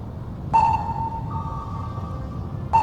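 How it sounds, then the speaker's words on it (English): Submarine sonar pings from the Cold Waters naval game ring out as clear, high electronic tones, one at the start followed by a long sustained echo and another ping at the end, with a low rumble underneath. "Those sonar pings sound awesome, I love those."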